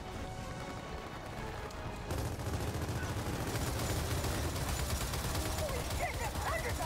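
Rapid machine-gun fire rattles from a mounted turret in a shooting video game, starting after a quieter lead-in and continuing as a dense, sustained burst at steady loudness to the end.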